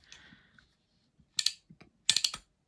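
A Daiwa Sportmaster No 78625 fishing reel, opened for service, gives two short bursts of sharp mechanical clicks as its handle turns and the mechanism snaps back over, close and crisp against near silence.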